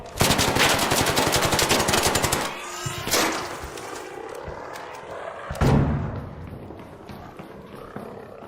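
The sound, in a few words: gunfire in the video game Arc Raiders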